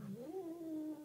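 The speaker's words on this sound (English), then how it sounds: "This cat is mean." A hostile cat lets out a drawn-out, wavering caterwaul, a loud sustained yowl that bends upward and holds, close by with no talking.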